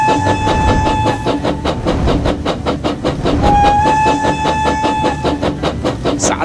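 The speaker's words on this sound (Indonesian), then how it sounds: "Kereta berangkat dari stasiun. Kereta mulai menanjak." A toy brick train from the Labo Brick Train game, an Atlantic 4-4-2 locomotive, rattles along its track with rapid rhythmic clickety-clack beats and two long whistle tones, loud and close throughout.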